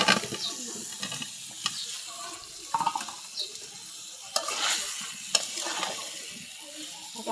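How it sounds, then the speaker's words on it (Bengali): Spice paste with salt for a jackfruit curry is sautéed in a pan, giving a continuous close sizzle with repeated stirring scrapes and knocks. "মশলাটা কিন্তু ভালো করে কষাই নিছি"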